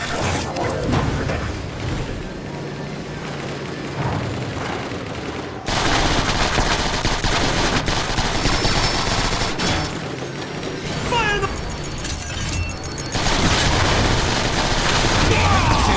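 Rapid bursts of weapon fire and mechanical clanks rattle through a Transformers: War for Cybertron battle, with loud, dense volleys that pause briefly mid-clip and then resume, while occasional speech sits beneath the shooting.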